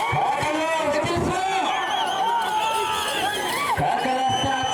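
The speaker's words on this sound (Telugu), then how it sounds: "కేకలు, విజిల్స్." A dense crowd at a Sri Anjaneya Swamy temple anniversary festival competition shouts and whistles continuously, with wavering shrill whistles and overlapping voices forming a loud, unbroken roar close by.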